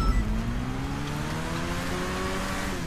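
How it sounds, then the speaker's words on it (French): A flying motorbike in the video game GTA 5 gives off a steady engine drone that slowly climbs in pitch as it accelerates, with a continuous whine above a low rumble and no talk. "Maintenant, avec votre moto-moto volante, allez au magasin de masques sans mourir."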